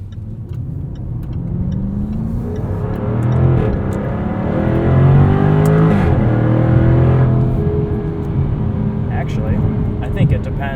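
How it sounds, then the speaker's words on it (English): A 2023 Jaguar F-Type R Coupe engine revs hard from inside the cabin, its pitch climbing through the gears with abrupt upshifts, loud and close over steady road rumble. "In dynamic mode, you get some very aggressive shifts at redline."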